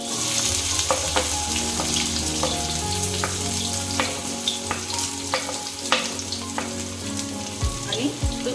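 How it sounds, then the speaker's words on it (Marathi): Chopped onion fries in hot oil in a pan, a loud, constant sizzle broken by regular clicks and scrapes of stirring, over a steady low hum. "आणि तो छान परतून घेऊया कांदा."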